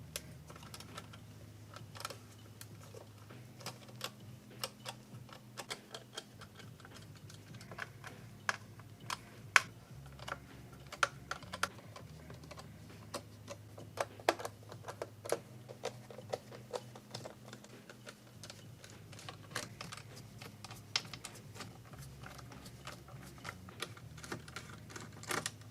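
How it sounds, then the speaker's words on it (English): Small screws being backed out of an Xbox One X console during a teardown, giving a steady stream of faint, close ticks and light clicks with no talking. "Here are 6 long screws. And now I can start removing the others."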